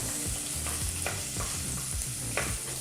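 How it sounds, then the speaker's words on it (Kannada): Chopped onion frying over a medium flame in a pan, stirred continuously, with steady sizzling and repeated scraping strokes of the spoon against the pan, close and clear with no voices. "ಸರಿಸುಮಾರು ಎರಡು ನಿಮಿಷಗಳ ಕಾಲ ಮೀಡಿಯಂ ಫ್ಲೇಮ್ನಲ್ಲೇ ಈರುಳ್ಳಿನ ಚೆನ್ನಾಗಿ ಫ್ರೈ ಮಾಡ್ಕೋಬೇಕಾಗುತ್ತೆ"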